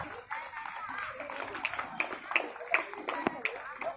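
Students and guests clap at a school National Voters' Day event, scattered handclaps under a voice speaking continuously over them.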